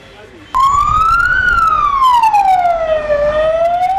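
An ambulance siren starts abruptly and wails loud and close, its tone sweeping slowly up and down over a low vehicle rumble.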